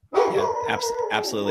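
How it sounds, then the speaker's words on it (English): Several dogs bark outdoors in the background, a steady run of barks and yips persisting under a person talking close by. "I'm sorry if you can hear my dogs barking."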